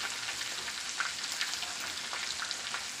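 Chicken pieces frying in a pan, a steady dense sizzle and crackle of hot oil heard close and alone, with no voices.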